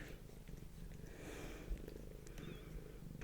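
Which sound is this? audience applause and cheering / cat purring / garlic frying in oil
cat purring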